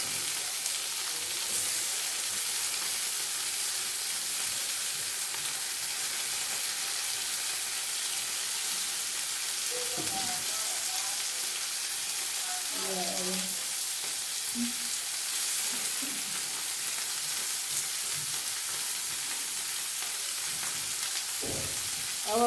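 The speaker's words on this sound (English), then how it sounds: "You can see the onion is now golden brown. So that's where I add my tomatoes." Golden-brown onions and tomatoes fry in a pan with a loud, even sizzle that hisses on throughout, broken by a few soft stirring clinks and scrapes.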